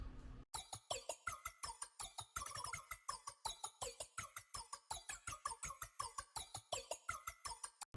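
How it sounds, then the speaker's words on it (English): Fast, choppy glitch percussion hits in a tight repeating rhythm within a beat, glitchy and clicky with bright stuttering textures, steady throughout. "We have the glitch percussion."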